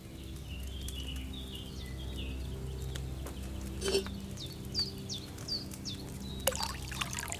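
Wine poured from a pitcher into a cauldron in the video game Kingdom Come Deliverance 2, a soft steady trickle under faint birdsong and a low ambient hum, with a few small splashes, no talk.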